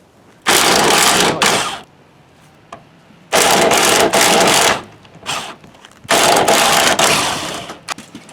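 Impact wrench or power tool loosening the tailgate hinge bolts on a GMC Jimmy, loud buzzing bursts in three main runs with short stops between them, close and with no talk.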